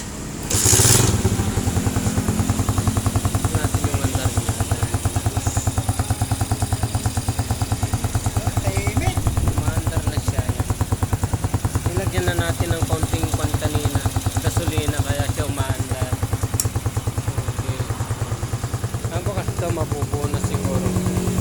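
A motorcycle engine runs steadily at close range for the whole stretch, a continuous low throbbing rumble with a scraping, rattling texture, while someone talks over it.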